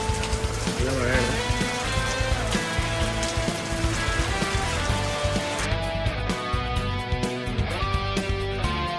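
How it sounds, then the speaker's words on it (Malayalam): Heavy rain pours steadily in Karnataka, a dense continuous wash of noise lasting throughout, with some tonal sounds layered over it. "നല്ല മഴയാണ്."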